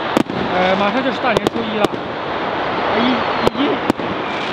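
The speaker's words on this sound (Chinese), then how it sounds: "已经有人开始急不可耐的开始放烟花了" Fireworks go off around midnight on Chinese New Year's Eve: several sharp, scattered bangs and pops ring out against a background rumble while someone speaks close by.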